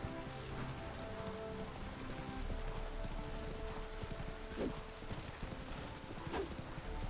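A horse gallops in The Witcher 3 video game, its hooves making rapid, rhythmic clip-clop beats close by, with a rain-like hiss underneath throughout.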